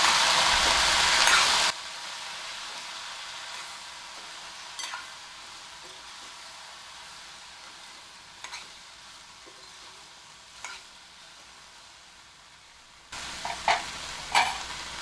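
Spiced gavar beans and potato stirred in a pan with chili powder, Kashmiri chili and goda masala, giving a soft frying hiss with occasional scraping spoon taps, louder sizzle at the start and end, no voices.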